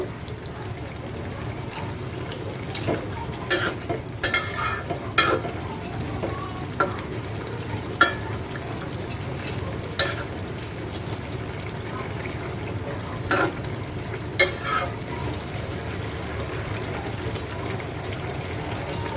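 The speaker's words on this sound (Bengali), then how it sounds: "মাছগুলো দিয়ে দিলাম, এবার একটু নেড়ে চেড়ে নেব।" Tangra fish stirred in a frying pan of hot oil, steady low sizzle with scattered scraping clicks of the spatula throughout, close and moderately loud, no talking.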